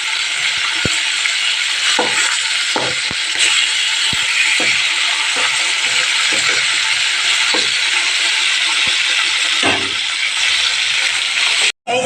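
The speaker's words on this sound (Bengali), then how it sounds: "এই যে মাছ ভাজা হচ্ছে" Fish frying in a pan in a home kitchen, a loud, steady hiss and sizzle of hot oil with scattered soft clicks and taps of a utensil, continuous throughout without talk.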